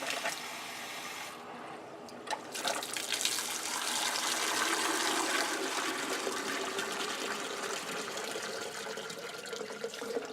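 Water rushes steadily through a carbon flush valve on a GrowoniX GX1000 reverse osmosis filter, a continuous loud hiss and gush that swells after a brief dip and keeps flowing to drain, with no voices.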